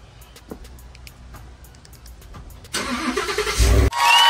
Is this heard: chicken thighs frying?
no